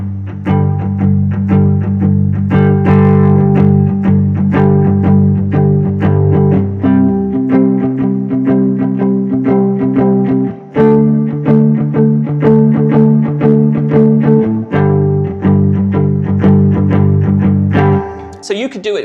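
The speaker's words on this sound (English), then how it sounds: "if we just did it with major chords, it would sound kind of like this" An electric-toned guitar plays a 1-4-5 progression in G using plain major chords, strummed chords that ring and change every few seconds with a slightly processed sound, loud and close, with no talking.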